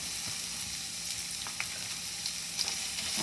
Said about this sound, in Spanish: Y aquí tengo el sartén con una cucharada de aceite y ahí vamos a poner la cebolla y el ajo.